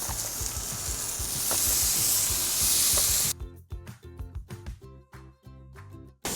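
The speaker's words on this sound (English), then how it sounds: "now we're going to throw some of these sausage links on" Sausage links land on a hot Weber Slate griddle, a loud broad hiss for about three seconds that drops into a softer, crackling sizzle broken by quick spattering pops.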